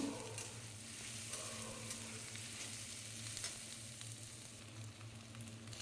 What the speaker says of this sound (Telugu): అన్నీ బాగా మంచి కలర్ వచ్చేంత వరకు వేయించుకోవాలి